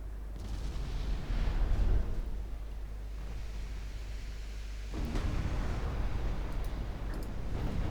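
Naval gunfire and torpedo launches from warships in the Ultimate Admiral Dreadnoughts battle game, a dense rumbling barrage of booming shots that swells near the start and again in the back half, with no talk.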